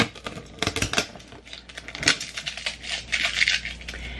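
Tape is pulled off a snack pouch package, making close, crinkly crackles and ripping sounds that rise and fall in uneven bursts.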